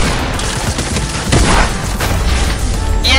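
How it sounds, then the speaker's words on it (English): Gunfire in the video game Fortnite comes as a loud, dense burst of booming shots and blasts packed tightly together, with a heavier bang about midway through. "I'm gonna shoot you, Dosh."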